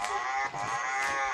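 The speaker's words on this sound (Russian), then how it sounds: "Вот тебе и коровушка, му-му." A toy cow lets out a loud, drawn-out moo, close up, with one brief dip midway before the call carries on to the end.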